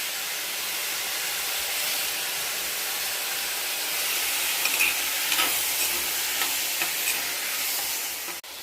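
Potato sautéing slowly in a pan for a dal kuzhambu, with a steady broadband sizzle and hiss throughout, some faint stirring clicks near the end, and no talking.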